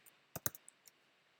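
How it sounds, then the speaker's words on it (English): Mouse clicks on a download button at a computer, a few quick faint clicks close by in a quiet room. "So we're going to click download."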